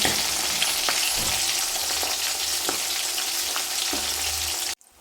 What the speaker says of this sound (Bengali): এইদিকে মাছটা একদিকটা ভালো করে লাল করে ভেজে নিচ্ছি